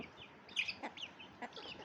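Soft, scattered clucks from chickens nearby, a few short calls spaced irregularly over a quiet background.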